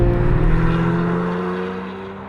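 A 2013 Porsche 911 Cabriolet engine holds a steady, loud droning note, then gradually fades and eases off toward the end, with no talking.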